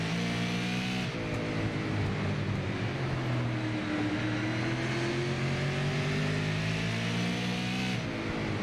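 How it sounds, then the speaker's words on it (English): A super late model race car engine roars loud and close from an onboard view, droning steadily with smooth pitch swells as the throttle eases off briefly near the start and again near the end. "You hear him not really working the throttle all that much."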